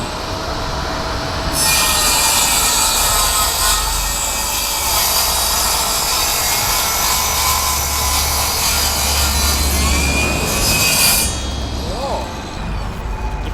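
A Stanley FatMax cordless miter saw whines at a high steady pitch for several seconds, then spins down, with a low motor hum underneath.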